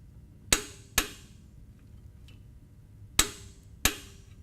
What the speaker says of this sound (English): take our torque wrench and 5/8 inch socket and finish